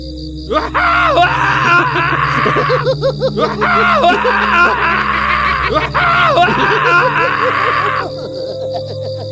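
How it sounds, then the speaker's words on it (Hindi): Layered screams and groans pour from the walls of a haunted ruin in a Hindi horror animation: wavering, anguished voices overlapping in bursts over a low eerie drone before cutting off. "दीवारों से चीखें निकल रही थीं, जैसे उनमें दबी हुई आत्माएं बाहर झांक रही हों"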